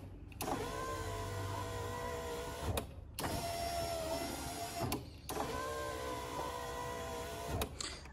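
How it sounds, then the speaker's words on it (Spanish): A power window regulator motor in a Fiat 147 door whirs in three long runs, each a steady electric hum of a couple of seconds broken by short clunking stops, close and loud. "simplemente tengo alimentado desde los relés al motor acá con estos cables provisorios. Voy a mostrarle cómo funciona."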